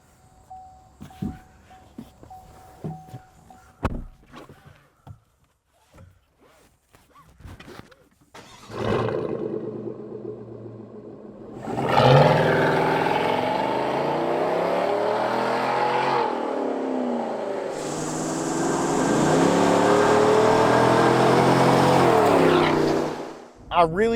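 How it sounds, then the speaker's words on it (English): A 2021 Chevrolet Silverado pickup with an aftermarket exhaust on a road test: a voice talks over faint mechanical clicks before the engine rumbles up and holds a loud, throaty drone through two long acceleration pulls. "I really love the tone of this exhaust"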